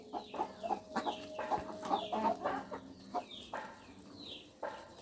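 Hens clucking close by in a farmyard where they lay eggs in scattered spots, a steady run of short repeated clucks and calls with no talking.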